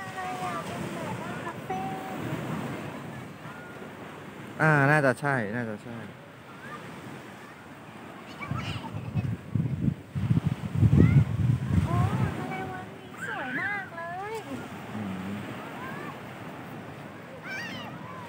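Sea waves wash onto a sandy beach in front of a house, with soft surf under gusts of wind buffeting the microphone. People talk intermittently over the water sound.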